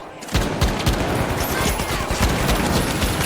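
Gunfire from dual-wielded Akimbo pistols used by a Heavy-class player in the video game The Finals: loud, rapid, overlapping shots in dense bursts that keep going throughout, close up.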